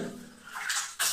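Two quick splashes of water poured over the head during ritual full-body washing, a short gush that swells and then lands again more sharply, close by and without speech.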